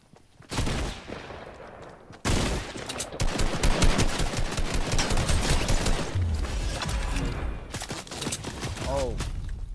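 Gunfire in Fortnite, with rapid bursts of shots in loud, dense stretches that start abruptly and carry on after a short gap, while a voice talks over the shooting.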